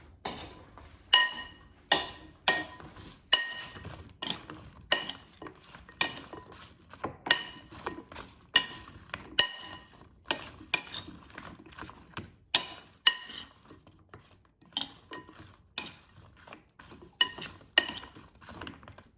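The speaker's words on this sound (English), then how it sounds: "now I'm going to toss the zucchini so it's coated with oil and seasonings" Zucchini slices being tossed with oil and seasonings in a bowl, a steady series of sharp clinks and clatters repeating roughly every second, close and crisp, then turning more irregular toward the end.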